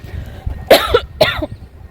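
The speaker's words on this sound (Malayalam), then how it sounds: "ഇപ്പതാ എനിക്ക് ചുമ" Two sharp coughs in quick succession, close and loud, with a short pause between them.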